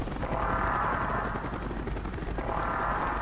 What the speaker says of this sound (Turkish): Helikopter geliyor oğlum.